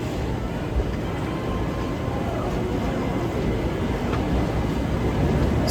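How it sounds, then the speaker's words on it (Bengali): Kolkata Haldibari Express train passing, heard as a loud, steady rumbling roar with broadband rail noise that holds constant throughout, close by and with no voices. "এটা হলো কলকাতা হলদিবাড়ি এক্সপ্রেস এই কলকাতা হলদিবাড়ি এক্সপ্রেস এই ট্রেনটি ক্রস করছে এখন"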